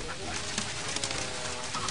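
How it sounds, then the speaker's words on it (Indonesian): Chickens cluck faintly amid a noisy background, their calls blending into a busy, continuous murmur from a coop. "Riuh ayam-ayam kat dalam reban."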